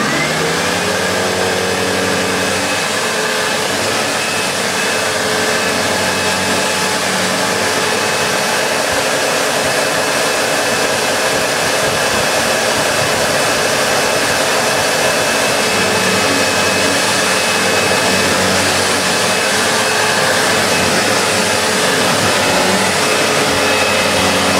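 A Sebo Automatic X4 Boost upright vacuum cleaner runs with its boost mode switched off, giving a steady, loud, continuous motor whine and airflow hiss that holds unchanged from start to finish, with no talking.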